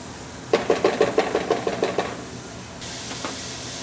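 Onions dropped into hot oil in a pan: a quick run of soft taps and knocks, then a steady, gentle hiss that carries on to the end.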